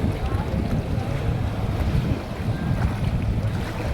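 Boat ride on the Gangrel Dam reservoir in Dhamtari, a constant rushing blend of wind buffeting and churning water and engine, loud and close throughout.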